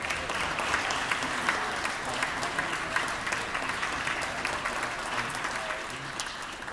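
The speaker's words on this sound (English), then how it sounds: "give them a round of applause" Sustained applause from legislative members welcoming visiting grand jurors in a state chamber, a steady wash of many hands clapping at moderate volume, somewhat distant and even throughout.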